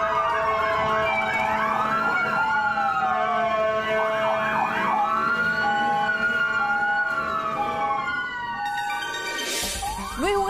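Several ambulance sirens wail together in a continuous overlapping chorus during a drivers' protest outside a hospital, with rising and falling tones and a short burst of higher-pitched noise near the end.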